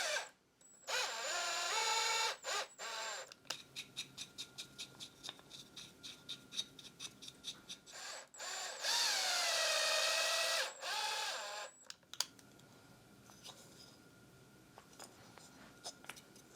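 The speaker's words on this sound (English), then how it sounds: "Let's go ahead and tap these holes." Threaded holes are tapped into a 3D printed metal part, with bursts of a small power tool whirring interrupted by a rapid run of short clicking, ratcheting turns, all fairly quiet and close.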